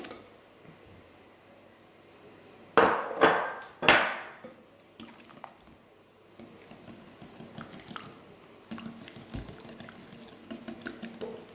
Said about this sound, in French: Donc là on va mélanger nos œufs.